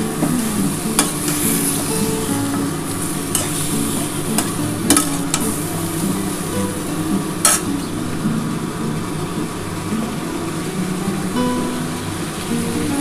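Chicken stew ingredients, with no onion or garlic, are lightly sautéed and stirred in a pan. The sound is a continuous loud sizzle with sharp clicks and scrapes of a utensil against the pan scattered throughout.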